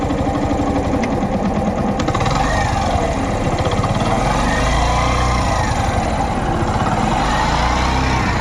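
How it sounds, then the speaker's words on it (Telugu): A second-hand 2014 Yamaha YBR motorcycle engine runs steadily up close, a loud, even mid-pitched putter with a fast regular pulse throughout and no talking. "ఇంజన్ సౌండ్ కూడా వినండి."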